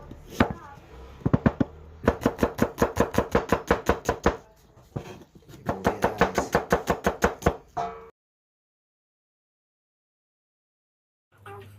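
Onion chopped on a board for kinilaw, with fast, regular knife strikes in two long bursts separated by a short pause, close and crisp, then silence.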